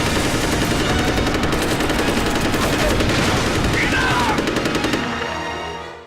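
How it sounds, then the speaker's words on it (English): A large minigun in the video game Red Ninja: End of Honour fires in one loud, continuous rattling burst that cuts off and fades near the end. "Which turns out to be a large minigun."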